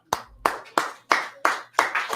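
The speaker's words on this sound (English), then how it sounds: "Clap it up." Six sharp, evenly spaced hand claps from an audience, loud and close with a steady rhythm, no talking.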